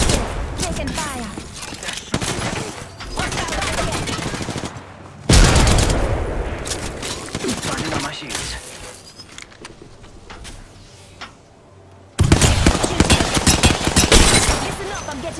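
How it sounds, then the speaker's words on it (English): Bursts of gunfire in Apex Legends, with rapid volleys and single shots coming in waves, some loud and close, others quieter, separated by calmer stretches with a voice speaking. "Listen up, I'm getting shot at."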